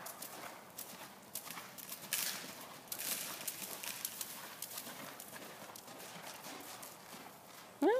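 A horse canters during a riding lesson, its hoofbeats rhythmic but soft and a little distant under faint background noise, with a brief whinny-like squeak at the end.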